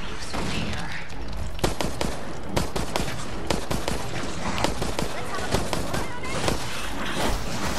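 A minigun in the video game Resident Evil Resistance fires repeated heavy bursts, dense rapid shots spread across the whole stretch with scattered louder bangs, while a person talks through it.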